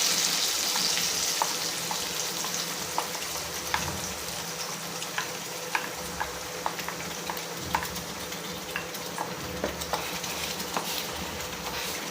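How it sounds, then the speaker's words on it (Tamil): Date halwa being stirred in ghee in a pan, a steady frying sizzle with soft scraping strokes of a spoon repeating throughout, close and continuous with no talk. "விடாமல் கிண்டிகிட்டே இருக்கணும்"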